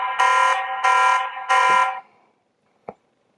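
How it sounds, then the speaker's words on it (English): A Tapo C200 security camera at a front door sounds its motion-detection alarm: three loud, harsh buzzing blasts in a steady rhythm, then silence and a single short click. "it can make an alarm. So just like that."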